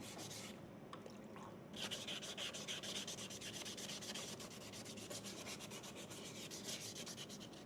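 Sandpaper rubbing across a painted War Machine suit part, making fast, close, rhythmic scratchy strokes that carry on steadily after a short pause.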